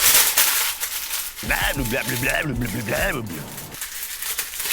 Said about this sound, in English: making it crinkled like that makes it fight less when you try to put it in the pan